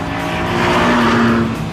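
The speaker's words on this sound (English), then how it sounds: "The 2-litre VTEC engine in this is astonishing." A car with a 2-litre VTEC engine accelerates hard, its loud, steady engine note climbing close by with a faint tyre squeal and no voices.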